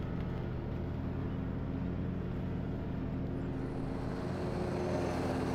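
A Cub Cadet RZT S zero-turn ride-on mower drives along with a steady, loud, close engine drone and rumble that holds constant throughout, with no talking.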